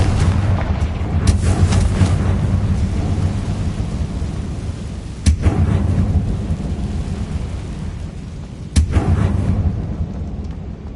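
Bombarda and Confringo spell blasts in the game Hogwarts Legacy: three sharp, booming explosions land a few seconds apart over a steady, rumbling, rain-like roar.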